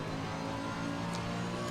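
Race car engine holding a steady, loud drone on the Indianapolis Motor Speedway road circuit, continuous and close throughout with no clear rise in pitch, no voices.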